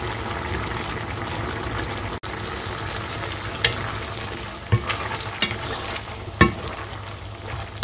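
Thick braising liquid with pork ribs bubbles and sizzles steadily in a pot over raised heat, with occasional scraping knocks of a spoon stirring, no talking.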